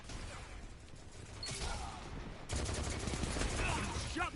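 Bursts of rapid gunfire from a weapon in the video game Destiny 2, a quieter stretch followed by louder, denser firing, with faint game sounds underneath.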